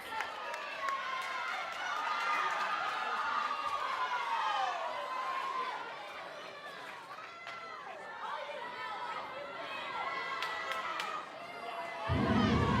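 Crowd noise at a women's NCAA gymnastics meet, a steady wash of spectator chatter and cheering throughout, swelling louder near the end, with voices shouting across the arena.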